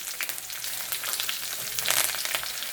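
Green chillies and curry leaves fry in hot oil, giving off a dense, steady crackling sizzle with bright pops throughout, close and loud with no talking.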